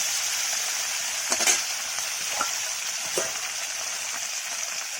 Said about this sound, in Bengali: তেল গরম হয়ে গেছে, এবার মাছগুলোকে আমি হালকা হালকা করে ভেজে নেব।